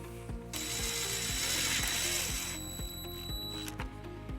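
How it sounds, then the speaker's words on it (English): A ratchet socket wrench with a 1/4 inch socket drives a self-tapping screw into a 2008 Dodge Nitro near a grommet, with repeated close clicking ratchet strokes in a steady rhythm over a brief whirring tone. "we're going to use the provided self-tapping screw with a 1/4 inch socket"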